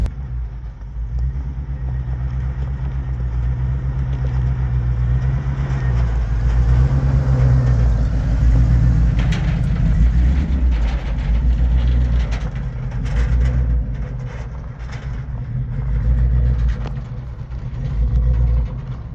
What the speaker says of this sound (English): That bed rattle will go away once we get the wood inside. Those are just the slats rattling.